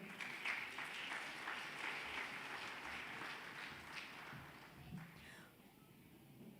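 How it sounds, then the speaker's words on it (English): Audience applause welcoming a guest at a birthday celebration gathering. Many hands clap steadily but fairly faintly, with the clapping thinning out toward the end. "Let us give a warm round of applause to welcome him."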